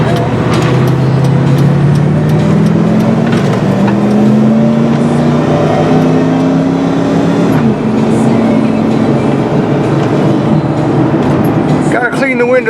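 A Ford Bronco drives along with a steady, continuous engine and road drone whose pitch slowly rises and falls, heard from inside the cab, with a voice speaking over it.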